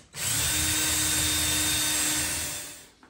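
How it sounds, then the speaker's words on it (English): A power drill pre-drills a hole in a wooden board, running steadily at close range for about three seconds, spinning up quickly and winding down at the end. "I have it marked so I can pre-drill the hole so I don't split the board"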